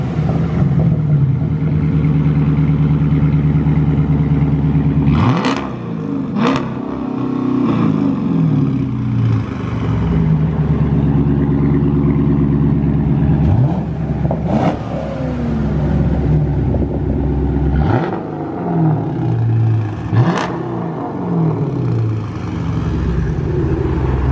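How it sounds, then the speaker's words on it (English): A Dodge Challenger R/T and a fifth-generation Camaro SS, both V8 muscle cars, idle loudly up close with a deep, steady rumble, broken by several sharp throttle blips that rise and fall, all with no talking. "let's go ahead and get some warm starts and some revs."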